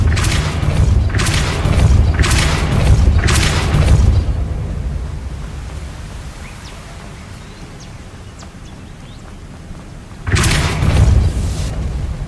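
A Depulso force spell cast in the video game Hogwarts Legacy: a run of four loud, booming bursts in quick succession, then a quiet stretch before one more forceful blast near the end.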